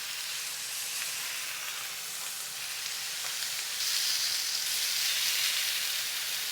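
Garlic cloves and rosemary sizzle steadily in hot oil beside searing beef, a dense, continuous frying hiss that holds close and grows slightly louder toward the end, with no talk over it.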